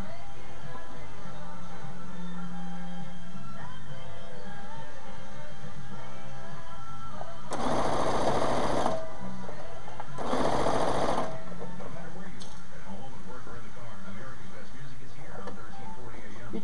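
A Touch and Sew sewing machine whose thread tension is not set right runs in two loud, close bursts of fast stitching, a few seconds apart, between stretches where someone talks.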